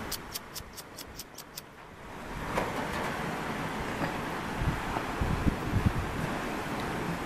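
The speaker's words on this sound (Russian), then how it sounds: "но ветер дает о себе знать" Strong wind buffets the microphone during a storm in Georgia, a steady broadband roar that swells louder after the first couple of seconds and carries on without pause.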